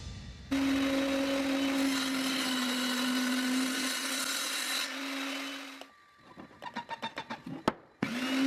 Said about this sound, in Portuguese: Iniciei o corte com a minha serra de bancada e recortei o restante com o meu tico-tico.